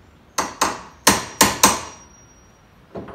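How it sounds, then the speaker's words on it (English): A hammer drives nails into the wooden frame of an upholstery piece: five sharp, close, ringing blows in quick succession, a pause, then a softer sixth tap. "We're nailing this piece on here."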